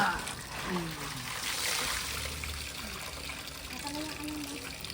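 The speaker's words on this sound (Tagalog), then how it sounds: "Dagdagan mo ng tubig yan, Jeff." Water trickles and splashes steadily at close range as it is poured for hand-washing laundry, with voices talking over it throughout.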